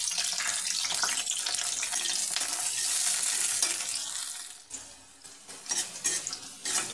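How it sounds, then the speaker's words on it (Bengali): Chilies and onions frying in oil over a high gas flame, giving a loud, dense hiss with stirring noises that ease off partway through, followed by lighter crackles and scrapes. "এই তেলের মধ্যে লঙ্কা আর পেঁয়াজ আমি লাল করে নেব।"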